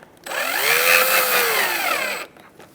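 A power drill drives a self-tapping screw into a front license plate bracket on a Buick Encore, giving one steady whirring run of about two seconds, close and loud.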